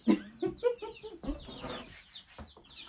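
Week-old American Bresse chicks cheep and cluck nearby under a heat lamp, several short chirps in quick succession with brief pauses between.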